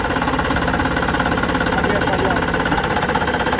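A boat engine idles on a fishing trip, a close, loud, rapid and even chugging that holds steady throughout.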